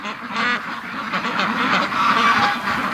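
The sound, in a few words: free range ducks quacking outside the pen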